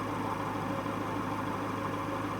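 A 1996 Geo Tracker engine idles steadily with a constant low hum and drone, close and even throughout, with no voices.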